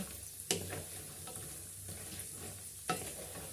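Pork cracklings frying in oil with a steady, faint sizzle, broken by two sharp pops or stirring clatters, close and quiet with no voices.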